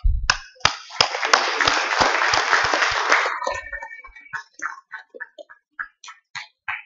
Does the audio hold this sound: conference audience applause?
yes